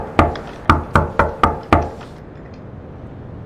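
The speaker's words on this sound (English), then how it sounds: "Knocked on the door, but no one answered." Six sharp knocks on a door in a horror driving game, loud and close, struck in a quick even rhythm before quiet settles.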